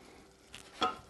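Onions sweating over medium-low heat in a pan for potato soup, stirred with a utensil: two brief scraping stirs, the second louder, over a faint soft sizzle, quiet and close.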